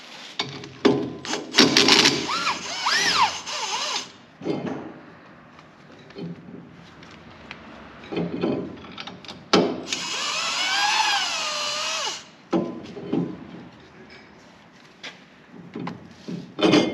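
A power tool whines and buzzes in several bursts while tightening bolts on a 1966 Ford Mustang 8-inch rear end, with clanks and handling noises between the runs.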